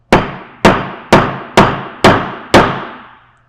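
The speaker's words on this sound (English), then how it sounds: "So I have a tiny anvil. So I'll just hammer" Six sharp metallic hammer strikes flattening solder on a tiny jewelry anvil, evenly spaced about half a second apart, each ringing briefly before the next, loud and close with no talk.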